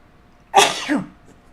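One sharp, close sneeze, then quiet.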